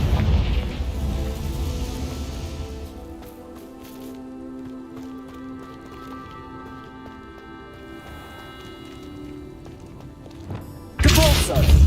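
In Hogwarts Legacy, a Confringo blasting spell goes off: quieter game ambience and soft tones give way to a sudden, loud, close explosive burst near the end.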